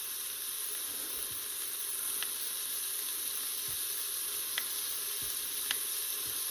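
Bacon browns in an Instant Pot with a steady, close sizzle and hiss, broken by a few faint stirring scrapes and soft pops, with no voices.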